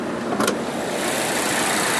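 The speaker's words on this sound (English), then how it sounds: "this one does have Volvo's 2-liter turbo and supercharged 4-cylinder, or the twin-charged engine" Volvo XC90 T6 from 2017 with its twin-charged turbo and supercharged 2-liter four-cylinder running at idle, a steady, moderately quiet hum heard close under the open hood.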